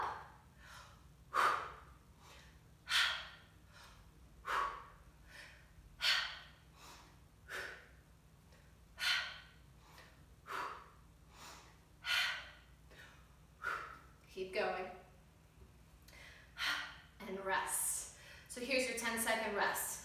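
A person doing an exercise workout breathes heavily in regular, rhythmic bursts of forceful exhales roughly every one to two seconds. The breaths are close and pronounced, and louder, more ragged breaths and gasps come near the end.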